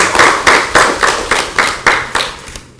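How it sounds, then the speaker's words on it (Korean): At a party committee meeting, a small group claps in unison, about nine loud, evenly spaced claps that stop abruptly, close and without talk. "박수 한번 쳐드릴게요."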